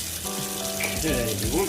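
Water runs from a kitchen tap while cooked potatoes drain in a sink, a steady splashing hiss under a woman's brief speech.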